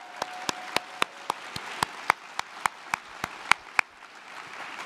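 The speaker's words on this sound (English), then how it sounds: "one more big roaring round of applause for Danny Jordan" Sparse, evenly spaced claps ring out in a large hall during a scholars program event, about a dozen sharp single hand claps in a steady rhythm rather than full crowd applause, fairly close and with nobody talking.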